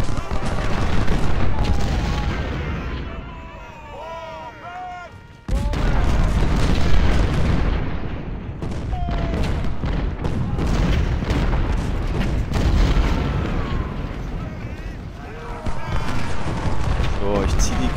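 Cannon and musket fire from a Union battle at Bull Run in the Civil War strategy game Ultimate General, a dense run of booms and crackling volleys that goes on throughout, with someone talking over it.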